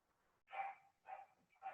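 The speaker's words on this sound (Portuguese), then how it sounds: "Vocês estão ouvindo os cachorros latindo aí?" Three dog barks spaced apart, muffled and distant, with quiet in between.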